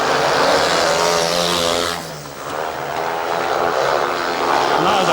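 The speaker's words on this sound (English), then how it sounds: "Carr's engine is really screaming as he rips into this last lap" A speedway motorcycle engine screams at high revs on the final lap of a race, loud and continuous, briefly dipping before rising again.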